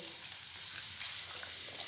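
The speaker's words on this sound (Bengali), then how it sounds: "পেঁয়াজ আদা রসুনগুলো ভেজে নেবো" Onion, ginger and garlic frying in a pan make a steady, soft sizzle that hisses evenly throughout with no voices.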